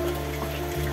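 A swollen river rushes with heavy water after days of downpour in Polewali Mandar, Indonesia, producing a steady, dense roar with no break and no voices.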